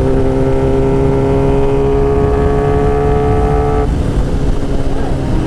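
BMW S1000RR superbike engine revving loud and steady at high pitch while the rider pulls a wheelie, the tone holding for several seconds before dropping sharply near the end as the throttle eases.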